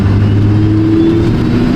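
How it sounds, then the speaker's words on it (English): A 20-year-old restored Duramax diesel truck drives along with a steady engine drone and a rising whine of its turbo spooling, close and continuous without any talk. "I can hear the turbo"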